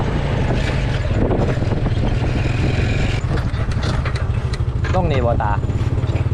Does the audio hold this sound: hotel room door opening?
no